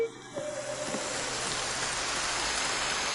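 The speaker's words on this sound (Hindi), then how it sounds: "बारिश हो रही है" Steady rain pours down, a dense, even hiss of drops that continues without a break from start to finish.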